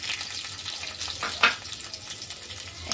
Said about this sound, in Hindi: प्याज को मैं हल्का सा फ्राई कर लूंगी।